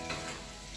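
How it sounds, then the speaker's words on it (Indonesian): Food frying in a pan makes a faint, steady sizzle over a brief moment, with no talk. "Jadi saya lagi menggoreng."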